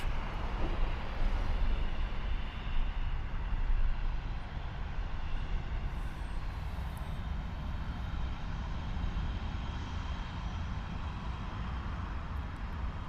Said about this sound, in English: Looks like we have another plane about to hit the runway